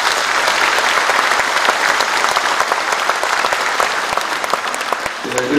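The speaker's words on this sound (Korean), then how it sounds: "여러분 또 축하의 박수 부탁드리겠습니다." Crowd at the inauguration ceremony of Icheon's mayor claps in congratulation for newly elected provincial council members, loud, dense and continuous applause filling the hall throughout.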